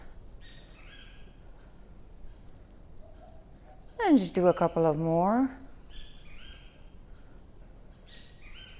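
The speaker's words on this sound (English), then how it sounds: "Meanwhile, you can enjoy listening to the birds." Outdoor birdsong: small bird chirps and calls, faint and scattered throughout, under a louder nearby speaking voice.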